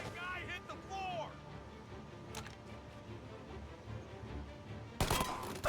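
Gunfire from the video game Mafia sounds as a sharp, loud burst near the end, after a stretch of game ambience and brief tonal effects.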